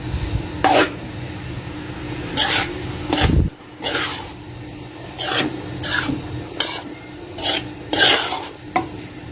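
Rice being stirred into a pot for zarda, a sweet rice dish: repeated scraping, rasping strokes of a spoon against the pot, close and fairly loud, with a brief knock near the start and no voices.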